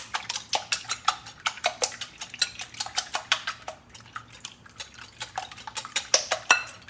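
Six eggs beaten briskly in a bowl with a whisk or fork, a steady run of close, sharp clinking taps against the bowl's side, roughly two or three per second, with no talking.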